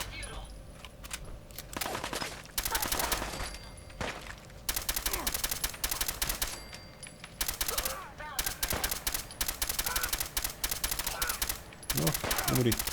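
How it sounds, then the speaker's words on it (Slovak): Gunfire in short bursts from an automatic weapon in Fallout 4, with several sharp volleys separated by brief pauses while game sounds play underneath. "Najlepšie s ním strieľať takýmito krátkými dávkami, potom sa dá aj mieriť."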